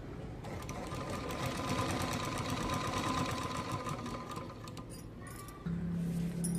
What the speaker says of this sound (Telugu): ఇప్పుడు బ్లౌజ్ బ్యాక్ పార్ట్ తీసుకొని దానిపైన ఇలా పెట్టి స్టిచ్ వేసుకుంటారండి.